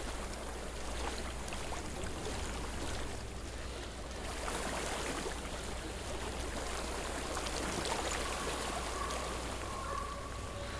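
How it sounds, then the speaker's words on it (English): Water from a stream flows steadily in the video game Hellblade: Senua's Sacrifice, a continuous, even rush and trickle that fills the whole scene with no speech over it. "I hear water."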